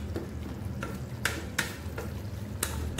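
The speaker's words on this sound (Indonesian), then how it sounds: "kalau udah mendidih kayak gini" Napa cabbage stir-fried with shrimp paste simmers in a pan, a steady soft bubbling and sizzle with a few sharp clinks of a spatula against the pan, close by and fairly quiet.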